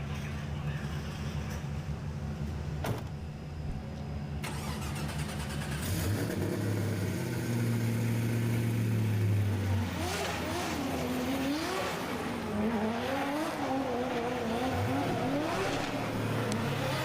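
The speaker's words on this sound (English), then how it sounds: "Nasser Al Habali in that carbon Kevlar Nissan 370Z Chevrolet V8 supercharged." A carbon Kevlar Nissan 370Z drift car with a supercharged Chevrolet V8 at a drift championship round on the Yas Marina F1 track; a loud engine holds a steady note, then revs in rising and falling swells, with commentary heard over it.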